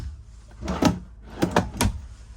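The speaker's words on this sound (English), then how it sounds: "Solid drawers." Solid drawers in a 2014 Forest River Berkshire 400BH RV slide open and shut, giving several close, sharp wooden knocks and thumps with brief scraping runs, loud and near with no talk.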